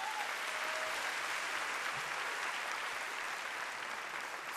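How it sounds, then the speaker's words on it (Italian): An audience at an improv theatre show in Italy applauds steadily, a dense, even wash of clapping from many hands sustained throughout at moderate loudness. "Applauso"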